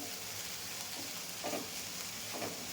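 Spring onion softening in a pan gives a steady, even sizzle throughout, with a couple of soft scraping stirs and no talking.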